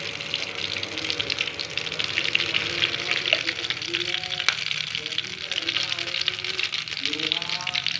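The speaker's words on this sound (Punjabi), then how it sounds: "ਆਪਣਾ ਤੇਲ ਗਰਮ ਹੋ ਗਿਆ ਹੁਣ ਇਹਦੇ ਵਿੱਚ ਆਪਾਂ ਪਾਉਣੇ ਆ ਜੀ ਅਜਵਾਇਣ ਪਾ ਦੇਣੇ ਦੋ ਚਮਚੇ" Ajwain seeds dropped into hot oil for ginger pickle, a bright hissing sizzle running throughout under a voice talking.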